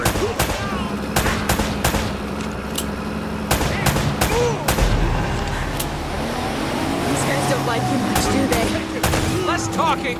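Gunfire rings out in a shootout in the video game Uncharted: Drake's Fortune. Sharp shots crack repeatedly in irregular bursts over a steady low rumble, with voices now and then.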